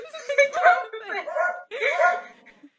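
A small female dog gives a few short, yappy barks and whimpering yips in quick bursts, close by and fairly clear, with possible voices around it.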